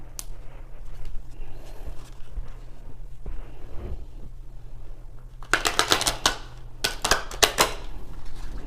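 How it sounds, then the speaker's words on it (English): Cards being shuffled in quick riffling bursts, first softly, then a louder flurry of snapping riffles near the end. "One more shuffle."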